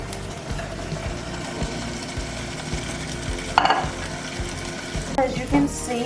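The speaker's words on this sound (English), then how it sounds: "now we're going to add these steaks back in" T-bone steaks frying in a pan with onions, a continuous close sizzle under a regular low thumping rhythm, with a few sharper scrapes and clinks partway through.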